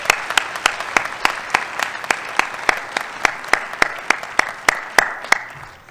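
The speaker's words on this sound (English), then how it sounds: "give me a round of applause for Laura and her committee" Audience at a lecture applauding Laura and her committee, a sustained round of clapping with sharp, evenly repeating claps standing out close by.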